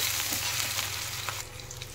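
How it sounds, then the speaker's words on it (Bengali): Chopped onions and green chillies frying lightly in hot oil for street-style noodles, a continuous close sizzle with occasional soft stirring scrapes, no voices. "দিয়ে দিচ্ছি এখানে কুচনো লঙ্কা আর পেঁয়াজ। পেঁয়াজগুলো হালকা ভেজে নিতে হবে"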